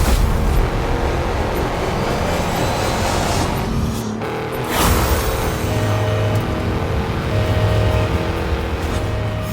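Porsche Cayenne SUV driving through a video game world, its engine droning loudly and steadily with a brief dip midway, tire and road noise layered over the rumble.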